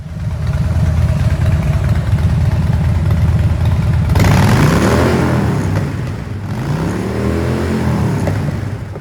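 A 2015 Harley-Davidson Softail Slim motorcycle engine runs loud and close throughout, a steady idle rumble that swells into revs around the middle and again near the end, with no voices.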